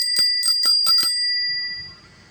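A colorful bicycle bell rung in quick bursts, five or six bright metallic strikes with a ringing tone that sustains and then fades, loud and close with no talking.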